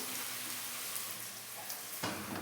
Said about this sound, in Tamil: இதை போட்டுட்டு நல்லா கொஞ்சம் ஃப்ரை ஆகட்டும்